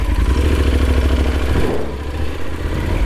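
A motorcycle engine idles with a close, steady clattering throb, then briefly dips and picks back up as the rider pulls away in Abkhazia.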